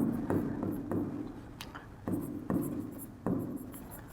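Chalk or marker strokes on a board during a Class 12 maths lesson on vector algebra, close and steady, with regular taps at the start of each stroke and a light scraping in between.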